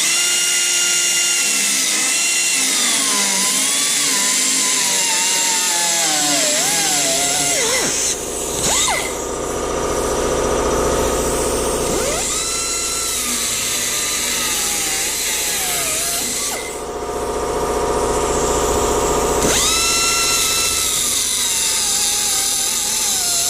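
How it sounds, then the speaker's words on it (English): A power tool cuts a rusted section from the driver's door of a 1968 Mustang, whining loudly and continuously with pitch that rises and falls as the blade bites into the sheet metal. "All I'm out to do is to cut this section off where the rust was."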